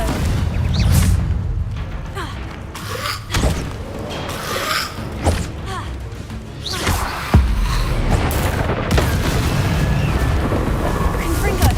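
Confringo fire spell explosions in the video game Hogwarts Legacy, several loud booming blasts and crashes scattered across the stretch over continuous rumbling game noise, with a voice calling out between them.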